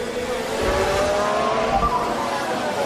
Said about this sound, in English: You could hear the wheel spin.